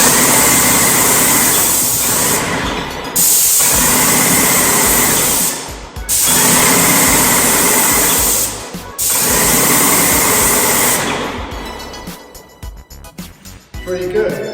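A Wagner 250M HEA electric paint sprayer runs in loud, close bursts of high hissing buzz, roughly three long passes separated by brief stops, before tapering into sputtering at the end.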